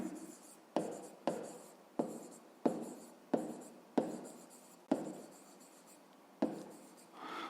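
A pen scratching across paper while a fifth-grade math exercise is written out: a quiet, close series of short strokes, each starting with a sharp scrape and trailing off, spaced roughly every second, with no voices.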